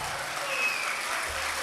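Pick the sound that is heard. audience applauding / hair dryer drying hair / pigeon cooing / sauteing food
audience applauding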